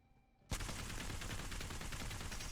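Sustained automatic gunfire from a weapon fired while aiming down sights in Apex Legends, bursting in loud and dense after a quiet start and running continuously to the end with a rapid, even rhythm.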